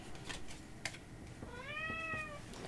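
A pet cat lets out one clear, drawn-out meow close by, heard over soft keyboard typing and quiet room noise.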